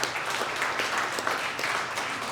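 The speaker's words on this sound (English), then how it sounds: "Give him a round of applause" Sustained applause from a room of colleagues at a company quarterly meeting, honoring a top sales performer; steady dense clapping fills the whole stretch at even loudness with no voices.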